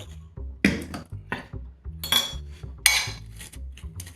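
A metal utensil scrapes and clinks against a bowl while a mascarpone filling with olive oil, salt and black pepper is stirred, giving irregular close clatters and scrapes with short pauses.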